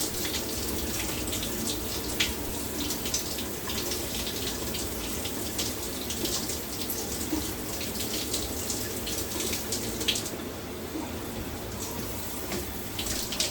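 Running tap water rinses shampoo and beard wash out of a beard, a steady close hiss of flowing water that holds throughout, with a brief easing near the end and no talking.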